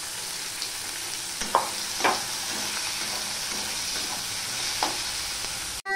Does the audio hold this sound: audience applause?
no